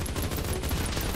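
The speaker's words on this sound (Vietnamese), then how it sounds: "Tôi bắn liên tục nè." Sustained automatic gunfire in the Mini World video game, a dense uninterrupted barrage of shots filling the whole brief moment at steady loudness.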